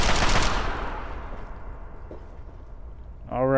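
Gunfire in the video game Fallout 3: a rapid burst of shots at the start that fades into echoing decay, followed by a short loud sound near the end.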